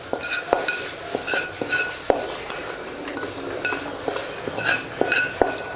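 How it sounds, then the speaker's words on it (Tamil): A spoon stirs mustard-seed tempering into boiling hotel-style sambar in a metal pot, giving repeated close scrapes and clinks against the pot over a soft bubbling and sizzling background. "இதில் வந்து நம்மளோட கடுகு தாளிப்பு எடுத்து சேர்த்துக்கலாம்"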